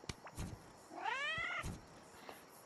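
A Puma pet cat in the Yeeps video game meows once, a clear rising-and-falling cry framed by soft clicks and small thumps, with no talking.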